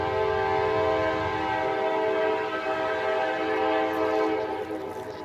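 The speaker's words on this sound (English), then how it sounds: "looks like we have the first train of the day," A Norfolk Southern freight train passing in Greensboro, North Carolina, its horn sounding as a loud, steady chord over a constant rumbling roar that fades slightly toward the end.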